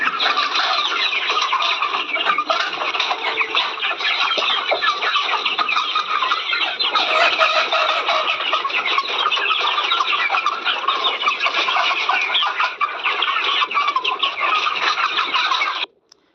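Fayoumi and local chickens crowd together with chicks and ducklings, making a dense, continuous chorus of clucks and high peeps that stays steady and fairly loud throughout, then stops abruptly at the end.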